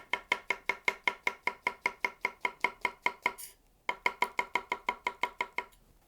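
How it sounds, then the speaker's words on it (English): Kitchen utility knife tap chopping on a cutting board, a fast even run of sharp knocks, about twenty, then a brief pause and another steady run, close and alone. "Or you can bring it back to do the tap chop."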